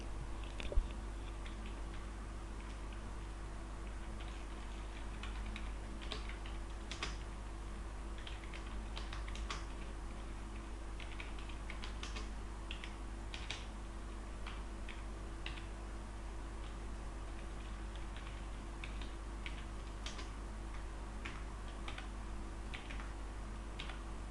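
Computer keyboard keys tapped in irregular bursts while controlling a game camera with the arrow keys, soft close clicks over a steady low hum, with no voices.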